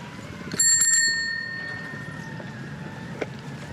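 A bicycle bell rings frantically in a rapid burst of bright metallic dings on a canal towpath, close and loud, its ring then fading out under faint outdoor noise.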